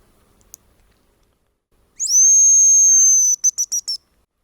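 A hazel grouse gives a thin, high whistling call in a forest clearing, answering a decoy whistle: one long sustained note followed by four quick short trills, clear and close in near silence.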